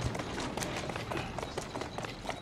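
A carriage horse trots through London streets in Assassin's Creed Syndicate, its hooves knocking out a fast, uneven rhythm of soft clops under a steady low rumble.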